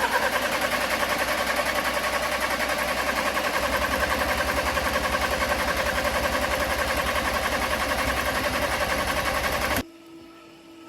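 An Audi A4 TFSI cranks continuously after an engine swap. The starter makes a loud, steady, close-up whir for about ten seconds without firing, then it cuts off abruptly and goes quiet.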